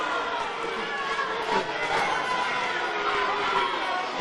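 A wrestling crowd jeers and heckles Jeremy "The Butcher" Madrox at ringside, a dense, steady wash of overlapping voices, shouts and chatter that holds at a constant level throughout.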